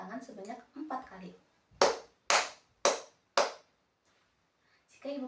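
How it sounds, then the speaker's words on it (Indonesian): Four sharp, evenly spaced hand claps ring out close and clear in a quiet room, following a woman's speech in a primary school lesson, with her voice returning afterward. "maka anak-anak melakukan tepuk tangan sebanyak 4 kali"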